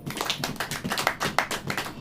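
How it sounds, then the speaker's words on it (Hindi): A church congregation clapping hands together in a rapid, steady rhythm of sharp claps, continuous and fairly loud throughout the short burst. "ताली बजाइए पहले।"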